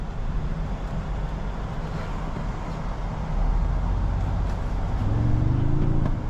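Synthesized V8-style engine sound played through the cabin speakers of a 2024 Toyota Sequoia Limited in sport mode, a steady low droning rumble that swells louder midway as the vehicle accelerates, with a rising tonal whine near the end.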